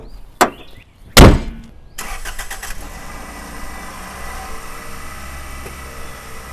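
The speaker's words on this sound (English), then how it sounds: "take this off the ramps, let the engine run a second, park it on level ground" A car's engine cranks and catches after a couple of sharp door-like thumps, then settles into a steady, close idle that runs on alone, with the car just taken off ramps during an oil consumption check.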